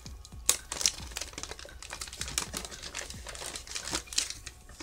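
Double-sided tape is peeled slowly off a Dollar Tree bat Halloween ornament, giving a continuous crinkly, crackling rustle with a few sharper snaps, close and moderately quiet, with no talking.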